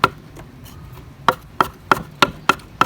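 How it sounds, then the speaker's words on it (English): A knife rough-chops herb stems on a cutting board for charred corn salsa, with a series of sharp, close thuds, a few irregular at first and then an even run of about six chops, and no talking. "Stems and all, I like to use the stems as well. Just a rough chop."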